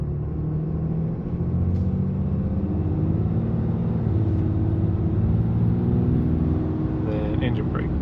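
A 2023 Ram 2500 fitted with an S&B cold air intake cruises in third gear, its engine a steady, loud low rumble with intake whistle, recorded from inside the cab.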